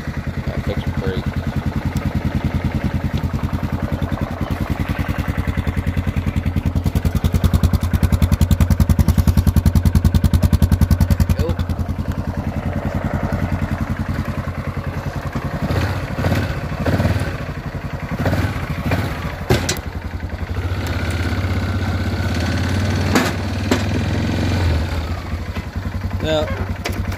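A motorcycle engine idles in neutral with a steady low rumble and faint mechanical clatter, close by, with a person talking over it and a few knocks and handling noises partway through.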